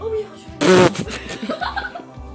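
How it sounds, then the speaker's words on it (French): A loud, short fart bursts out, followed by scattered snickering and faint laughter. "Ils viennent juste de péter en direct."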